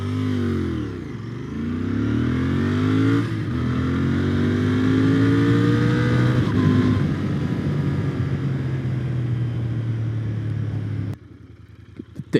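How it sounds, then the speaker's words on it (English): A 2020 Royal Enfield Interceptor 650 accelerates hard from standstill to 100 on a straight road, its loud engine note climbing repeatedly through several gear changes before cutting off abruptly near the end. "Let's do a quick 0 to 100 over here on the straight road."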